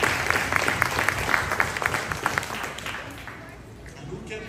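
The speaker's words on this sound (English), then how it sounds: "So give yourself a round of applause again just for being right." A congregation at a Sabbath service summit claps, with crisp individual claps standing out at first before the applause thins and fades while a voice carries on over it.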